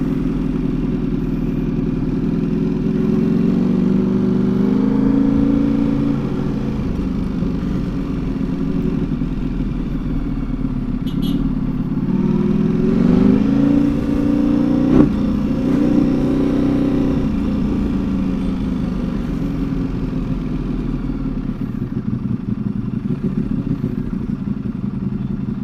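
A Ducati V4 motorcycle rides through Bangalore streets in first gear, its engine droning steadily and close throughout, with a brief rise in revs around the middle over a constant low rumble.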